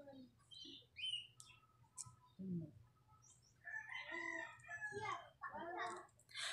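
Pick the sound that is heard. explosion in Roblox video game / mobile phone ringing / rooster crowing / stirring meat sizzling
rooster crowing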